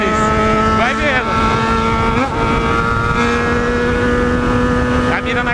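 A Yamaha XJ6 motorcycle revs loudly and close by at crowded Lake Igapó, engine pitch climbing and dropping in repeated bursts over a steady roar.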